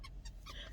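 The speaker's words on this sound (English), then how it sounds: "That's my dog" A dog left in a parked car with a squeaky toy lets out several short, faint whimpers and yips in quick succession, heard alone over low rumbling background noise.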